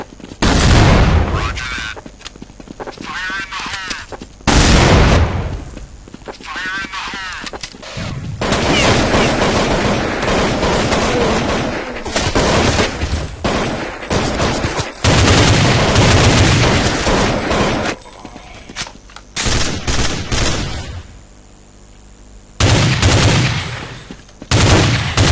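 Gunfire in Counter-Strike crackles in repeated loud bursts and single shots, with rapid automatic volleys separated by short gaps.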